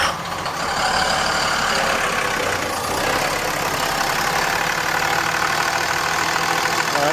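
2006 Cummins diesel engine idling during an injector test, a steady, rough mid-pitched rumble with a rattling knock, heard close and evenly loud throughout.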